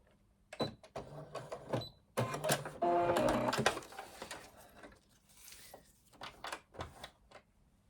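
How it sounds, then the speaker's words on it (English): Sewing machine stitching a straight line across a zipped project bag at a 3mm stitch length, in short bursts of mechanical chatter separated by pauses, with the fabric being handled between runs. "We're just gonna sew along a line of stitching across there."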